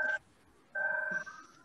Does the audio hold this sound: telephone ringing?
yes